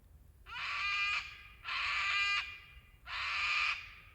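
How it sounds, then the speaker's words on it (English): Wild birds screech loudly from a treetop about 100 metres off in a fire-charred Grampians forest, three long harsh calls about a second each with short pauses between, clear against a quiet background. "The noises that these birds make are incredible."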